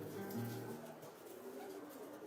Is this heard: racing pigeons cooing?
yes